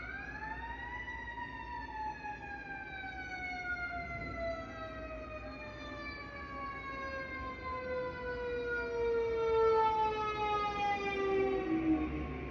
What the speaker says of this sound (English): sorry, that was a fire truck driving by.